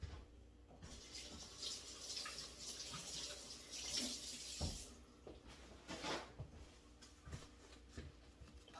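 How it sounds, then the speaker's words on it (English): Tap water runs steadily in a kitchen sink while hands are rinsed under it, a soft, quiet splashing flow with a few small clinks, close by. "Let me rinse my hands."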